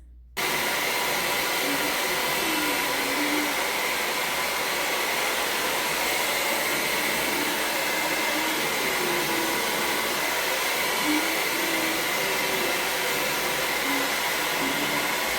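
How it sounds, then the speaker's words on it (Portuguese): Hair dryer blowing while hair is dried indoors, a loud continuous whooshing roar that switches on at the start and runs steadily without a break. "Daí eu vou secar o cabelo"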